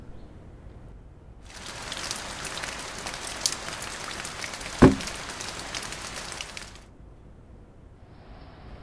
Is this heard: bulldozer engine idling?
no